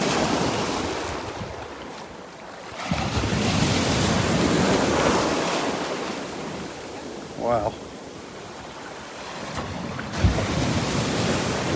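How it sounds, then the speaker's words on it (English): Small ocean waves wash and pound on the beach at Delnor-Wiggins, a continuous surging roar that swells and eases with heavy wind buffeting the microphone, and a person speaks briefly once. "Listen to those waves."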